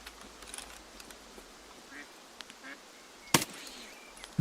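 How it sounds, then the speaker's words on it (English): Ducks quack in scattered short calls in the Escape From Tarkov video game, faint and somewhat distant over a quiet background, followed by a sharp loud burst near the end. "I'm hearing ducks."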